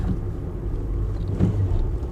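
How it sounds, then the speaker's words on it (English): A manual car engine is blipped during a heel-and-toe downshift, giving a steady low rumble with a short rise in revs about two-thirds of the way through, heard close and without voices. "little flick of the revs to get it matched into gear smoothly"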